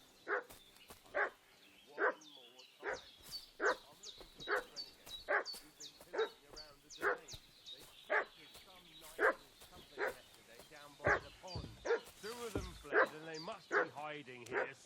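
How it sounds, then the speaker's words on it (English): A dog in the video game Kingdom Come: Deliverance II barks repeatedly in a steady rhythm, with yips and whimpers among the barks, while voices talk throughout. "What's that dog making such a fuss about?"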